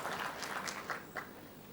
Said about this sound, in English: So let's clap for her.